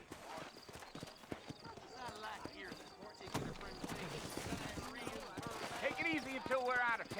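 Horse hooves clip-clop at a walk in a Red Dead Redemption town, in a steady, close, irregular rhythm that grows louder toward the end, with someone talking over them.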